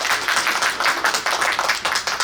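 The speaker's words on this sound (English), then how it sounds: "please give her a round of applause" Audience applause at a conversation event on racial reconciliation, a steady crowd of hands clapping at close range throughout, with no talk over it.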